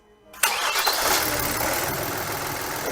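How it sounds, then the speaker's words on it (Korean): A Kia Mohave engine starts after a brief crank with a sharp catch, then settles straight into a steady, close idle with a fan clutch spinning. "시동을 한번 걸어 볼까요?"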